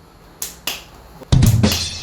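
Two sharp, brief hand claps ring out alone in a quiet room, followed by a louder burst of clapping and faint voices.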